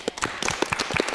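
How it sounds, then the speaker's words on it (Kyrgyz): Studio audience at a Kyrgyz TV show clapping together, a dense run of hand claps close by and steady for about a second. "кол чаап коелу"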